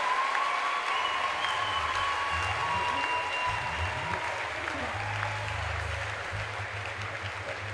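A church congregation applauds a choir as it comes forward, a continuous, even roar of clapping from a large crowd that stays steady throughout, with a low hum underneath.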